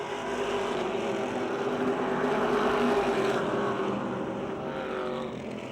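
Race cars circle the oval at Motordrome Speedway in a late-race battle, a dense, loud engine roar that swells and fades as the pack passes, with no talking.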